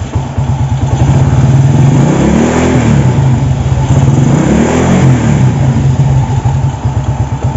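A Honda Astrea Grand motorcycle engine sputters to life close by, then idles with a steady putter and is revved twice in rising and falling swells.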